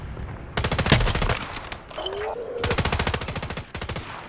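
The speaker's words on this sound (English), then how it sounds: "somebody shooting from a winery" Video game gunfire: loud bursts of rapid automatic shots in several volleys, with a brief pause in between where a whistling tone and faint background sounds come through.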